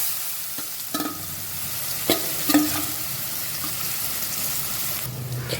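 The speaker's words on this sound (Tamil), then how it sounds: "இது நல்லா எண்ணெயில் நல்லா வதக்கிக்கலாம்." A carrot pickle mixture sautés in hot oil with spluttering mustard seeds and asafoetida, a steady frying hiss broken by a few spoon scrapes and clinks against the pan, close and fairly loud, with no one speaking.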